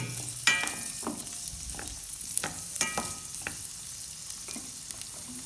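Carrots sautéing in a pan while someone stirs them: a steady, low hiss of frying runs throughout, broken by a scatter of sharp scrapes and clinks from a spoon, close by, with no talking.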